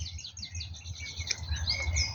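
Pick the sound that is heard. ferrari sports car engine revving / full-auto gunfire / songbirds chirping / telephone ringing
songbirds chirping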